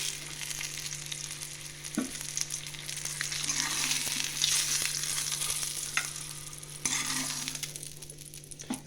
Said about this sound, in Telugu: ఒక 2 మినిట్స్ ఫ్రై చేసుకుందాము.